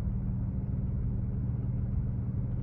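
Low, steady engine rumble from an airplane during takeoff, heard from inside, dense and constant with no pauses.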